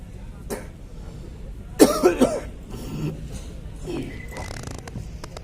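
An actor coughs during an outdoor stage play on a university lawn: a short, close burst of three or four harsh coughs near the middle, with faint room noise and light movement before and after.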